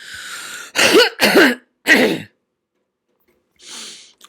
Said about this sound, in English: I'm going to apologize in advance for any coughing or spluttering that I do.